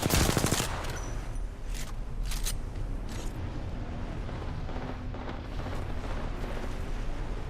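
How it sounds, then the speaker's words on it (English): Airstrike explosions in Apex Legends during a live match: a burst of loud, rapid blasts and cracks at the start, then a dense rumbling barrage of gunfire-like detonations continuing steadily to the end. "Deploying airstrike."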